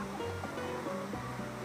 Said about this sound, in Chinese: 哇，这儿又到了一个瀑布